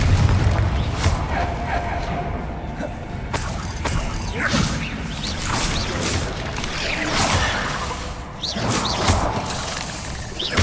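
Confringo explosive spell in a video game goes off with booming blasts, crashes and whooshing effects in a dense, loud stream of spell-fight noise, with faint voices underneath.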